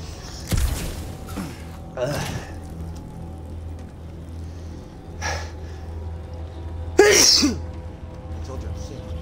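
A character in the video game Marvel's Guardians of the Galaxy sneezes, with several short breathy bursts spread across the clip and the sharpest near the end, over a low steady game ambience.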